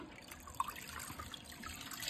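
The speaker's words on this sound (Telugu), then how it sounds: "ఇప్పుడైతే పాట్ని నేను పెడుతున్నా ఫ్లోరన్ ట్యాంక్లో" A pot soaked in water is set down into a flowerhorn fish tank, giving faint, quiet trickling and a small drip-like plop, with soft water movement continuing briefly afterward.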